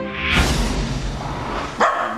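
A dog barks loudly and close, one long bark followed by a second shorter one near the end.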